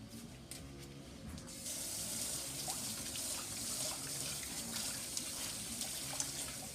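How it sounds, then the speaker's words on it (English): Running tap water pours over fresh strawberries being washed in a sink, a steady rushing flow that swells louder partway through and continues close by without talk. "we'll wash our fresh strawberries."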